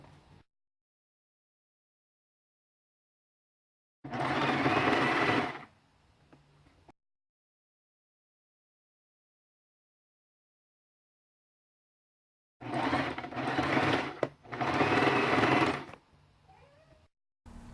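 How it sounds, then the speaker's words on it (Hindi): A sewing machine stitching fabric for a frock made from a dupatta runs in two bursts, one of about three seconds and a later one broken into short runs. Each is close and buzzing, with silence in between. "मैं स्टिचिंग लगा के स्टिच कर लेती हूँ इसे।"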